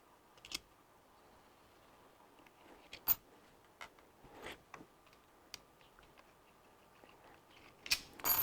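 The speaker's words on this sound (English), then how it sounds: "I'm going to start loosening these screws as well, and those ones are also 3mm. So I'm quickly going to take them out." Small 3mm screws being loosened and removed from a Daystate air rifle, giving faint, scattered metallic clicks and ticks at irregular intervals in a quiet room, with a sharper tap or two standing out.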